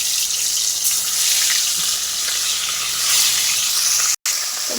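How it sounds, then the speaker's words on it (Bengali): Baim fish (eel) frying in hot oil in a wok, a steady broadband sizzling hiss that runs unbroken with small swells, then cuts out for a moment near the end. "গরম হয়ে গেছে, মাছগুলোকে এবার দিয়ে দিলাম এক এক করে"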